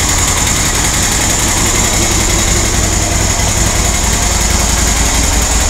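A QBK Q Link Tour 250 scooter engine idles steadily close by, a continuous light, even purr with no voices over it.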